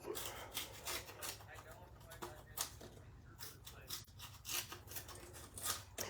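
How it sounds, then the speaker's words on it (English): Small scissors cutting through layered card stock with foam adhesive, a run of quiet, uneven snips and rasping cuts, close and faint. "See how it just kind of doesn't cut as easily when I'm using the little scissors?"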